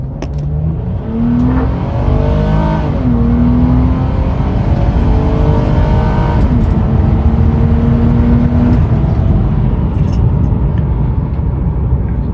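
A 2006 Nissan Maxima accelerating uphill on a highway, with loud interior engine drone and rising revs through the gears, a shift audible early on, and steady road and wind roar underneath.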